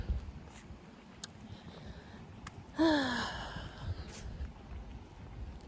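A sharp audible breath is drawn in and let out while walking outdoors, fairly close, with faint footsteps and light ambient noise around it.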